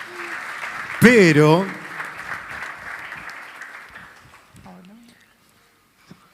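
Audience applause at a livestock and environment event in Salta, starting abruptly and fading over several seconds under an amplified announcer's voice, ending with a short spoken word.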